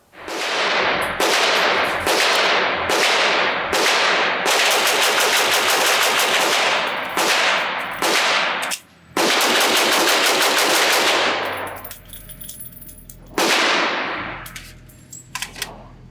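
Rapid-fire shots from a Smith & Wesson M&P 22 Magnum high-capacity .22 WMR pistol at a range: loud, sharp reports in fast bursts, a short pause for a magazine change, then more quick strings ending in scattered shots and clatter.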